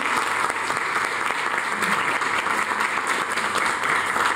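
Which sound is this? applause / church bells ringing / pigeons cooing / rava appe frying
applause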